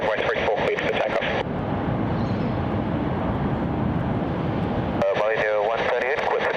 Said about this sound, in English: Runway 34 cleared for takeoff.